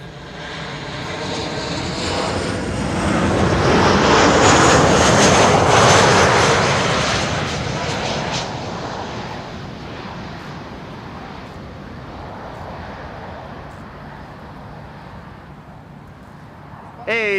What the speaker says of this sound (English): KLM flight 924 arriving from Ellen